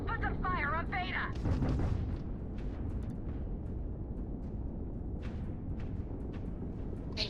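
Heavy ship-to-ship weapons fire and booming blasts roll through a space battle in a video game, a dense continuous barrage with crackling bursts, while a voice barks orders over the din.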